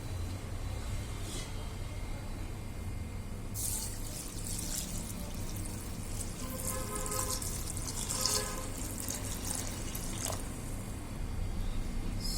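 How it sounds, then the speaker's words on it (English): Eight cups of rice being rinsed with water in a vessel for idli batter: steady sloshing and running water with occasional splashy bursts, close and fairly quiet. "First rinse it with water."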